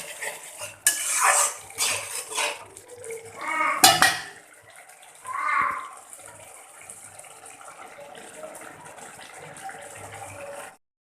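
Eggplant curry being stirred and fried in a pan, with a utensil scraping and clinking against the metal in bursts before a softer steady sizzle continues alone.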